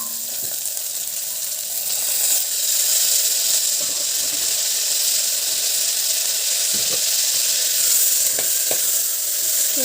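Chopped small tomatoes sizzle steadily in a pan while being sautéed for a vegetable kurma, a constant loud frying hiss with faint occasional stirring clicks.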